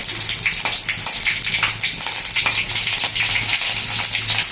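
Mustard seeds and green chillies fry in hot oil in a kadai, a loud, dense crackling and spitting like heavy rain that stays steady and close throughout.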